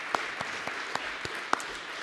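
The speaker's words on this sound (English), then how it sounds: "I'd like to give them a quick round of applause." Scattered handclaps from a small audience at the grand opening of an education center, a handful of sharp separate claps spread over two seconds, faint and sparse rather than a full ovation.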